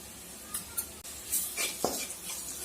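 A spoon scrapes and taps lightly in a pan, mixing red chili powder and salt into browned onion and garlic for a soya pulav. The quiet stirring clinks come a few times over a faint sizzle.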